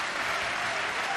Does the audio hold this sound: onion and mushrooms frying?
no